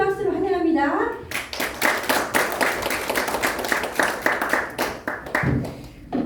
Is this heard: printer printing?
no